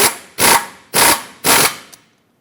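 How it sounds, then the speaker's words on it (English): A 21mm socket wrench tightens the outer tie rod nut on a 2003-2009 Dodge Ram 2500, heard as three loud, even bursts of ratcheting or impact rattle with short pauses between them, close up and with no talking. "21mm socket, tighten this up"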